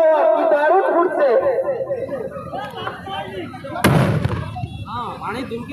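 A firecracker goes off at a fair in Odisha: one sharp, loud burst near the middle, set against steady crowd chatter and people talking throughout.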